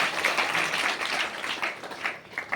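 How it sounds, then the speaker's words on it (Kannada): Applause from a gathered audience at a Kannada spiritual discourse in Balki, honouring a revered swami; a steady, dense patter of many hands clapping at moderate volume throughout, with no voices over it. "ಬಸವರಿಗೆ ಇರ್ಲಿ ಅಪ್ಪರೆ ಜೋರಾದ ಚಪ್ಪಾಳೆ."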